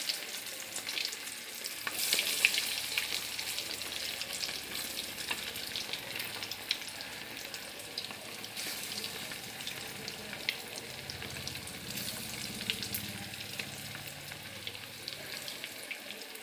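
KFC-style coated chicken pieces deep-frying in hot white cooking oil, a steady soft crackle and sizzle throughout with occasional sharper pops, heard alone without talk.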